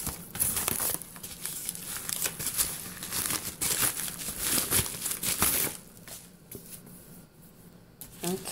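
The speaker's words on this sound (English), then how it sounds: "And you can see it's in another bubble envelope" A bubble envelope holding an unboxed goal planner is pulled open, giving close, busy plastic crinkling and rustling that lasts for several seconds, then fades to a few softer handling sounds.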